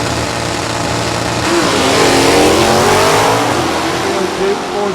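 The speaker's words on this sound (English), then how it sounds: "67 Chevrolet Camaro, low mileage, one-owner car." A 1967 Chevrolet Camaro drag race car revs its engine at an NHRA Division 3 drag racing event at Beech Bend Raceway, a loud, steady roar rising slightly in pitch while a commentator talks over it.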